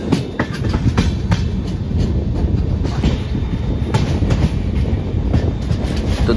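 An Indian Devagiri Express passenger train rolls along the rails near Mudkhed Junction in Maharashtra, with a steady, continuous clickety-clack and broadband rumble close by, and a brief word spoken at the start.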